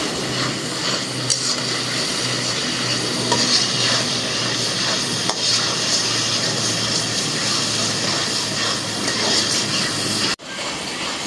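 Spice paste with a little garlic paste is sautéed and stirred in a pan for a village-style dried puthi fish chochchori, a loud continuous sizzle with a dense scraping texture that cuts off abruptly near the end, no talking.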